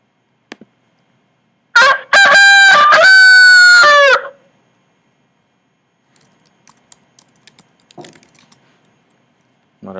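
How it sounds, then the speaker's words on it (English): A rooster crows once, loud and close, a long harmonic cock-a-doodle-doo lasting a couple of seconds, followed by faint scattered clucks and rustles in otherwise quiet surroundings. "Okay, rooster will do."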